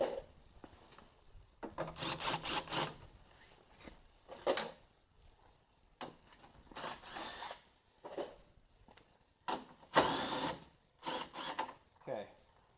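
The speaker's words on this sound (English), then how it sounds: "So go ahead and remove these bolts here." Bolts being removed from the headlight of a 2015 GMC Sierra, with close, irregular bursts of tool rubbing, scraping and ratcheting separated by brief pauses.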